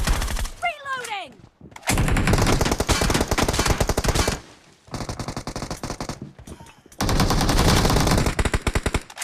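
Video game gunfire rattles in several long, loud automatic bursts separated by brief pauses, rapid and close.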